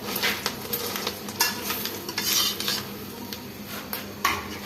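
Eggs fry in a pan on a home stove, a steady sizzle broken by repeated sharp scrapes and clinks of a utensil against the pan, close and busy with no talking.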